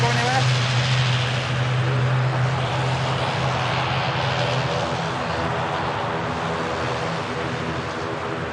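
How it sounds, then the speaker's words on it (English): An ATR turboprop arriving from Dublin touches down, its propeller engines roaring loudly and close before the drone slowly eases off. "Absolutely class touchdown that was from the ATR though."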